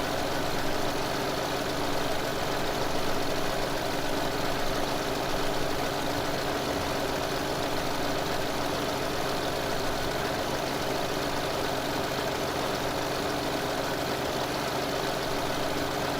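Tractor engine in the farming video game Farming Simulator 2015, a steady, loud idling drone with a constant low rumble and faint knocking texture, running alone without any talk.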